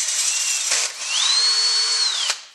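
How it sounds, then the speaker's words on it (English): Power drill boring a hole with a number 35 bit during a Mitsubishi DSM shift kit installation, a loud, close, steady whine that rises in pitch, dips briefly, then holds and stops. "So the final hole is going to get drilled to a number 35 drill bit"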